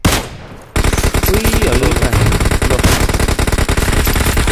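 Rapid automatic gunfire in a video game hammers at vehicles, a loud, dense, continuous burst of shots close up that begins abruptly after a brief quieter moment and keeps going, with a player's voice calling out.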